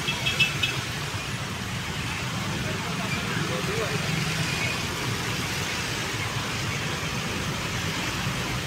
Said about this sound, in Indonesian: Di jalur paling kanan ini ada bus Akas Anggur Trida Surabaya Probolinggo Banyuwangi